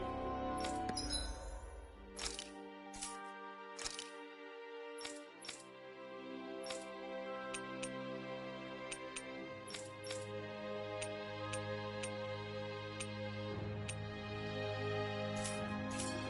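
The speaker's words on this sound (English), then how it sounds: "I always love the sound of hammers." Hammers clinking in the video game Tales of Arise: repeated sharp metallic strikes at an irregular, unhurried pace, ringing over a low steady drone, moderately near with no speech.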